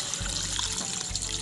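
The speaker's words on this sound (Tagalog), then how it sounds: "Lagyan ng maraming tubig." Water trickling and pouring steadily into a cooking pot for cassava suman, a close, continuous splashing stream with no talk.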